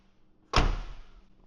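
A Ford van's sliding door closes once, a single solid thud with a short rattling decay, close by and with no talk.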